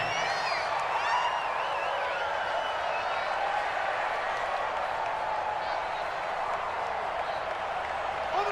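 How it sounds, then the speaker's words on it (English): A football stadium crowd at a game against the Titans roars steadily and loudly before a big third down, with whoops and clapping and a commentator's voice over the top. "the crowd getting into it as we come up on a big 3rd down"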